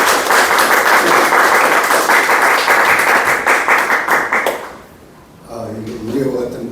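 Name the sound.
audience applause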